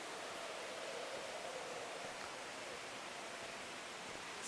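A small river flowing near ancient ruins in Chiapas, Mexico, a soft, steady wash of moving water at low volume with no voices.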